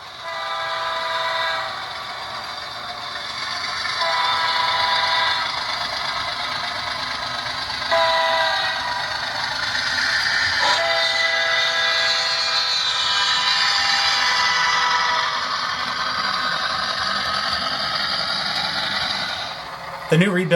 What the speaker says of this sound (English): GMD-1 has a slow Doppler horn recording on F5, which is just perfect for those slow freights.